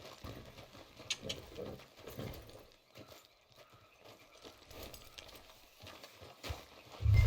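Horse hooves clip-clop in the Red Dead Redemption 2 video game, a steady walking rhythm of soft thuds at moderate distance, continuing for several seconds beneath faint ambient game sounds, with a louder thump at the end.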